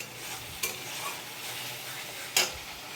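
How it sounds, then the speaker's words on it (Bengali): Spice masala stir-fried in a pan for a vegetarian soybean curry, with a steady low sizzle and two sharp scrapes of the spatula against the pan. "মশলাটা কষিয়ে নিচ্ছি।"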